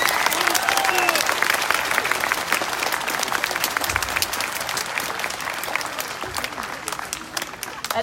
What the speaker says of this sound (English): Give her a nice round of applause, boys and girls.